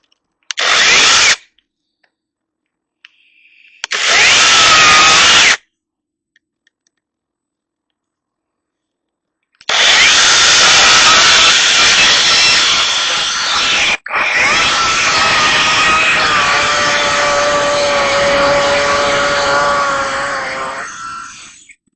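A Worx WG325 mini chainsaw cuts into a wooden log, with two short bursts of the buzzing motor followed by a long, loud, continuous cutting run that trails off at the end, separated by silent pauses.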